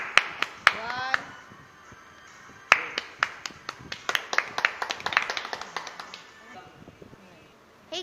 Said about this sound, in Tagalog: Uy, palakpak, palakpak na palakpak.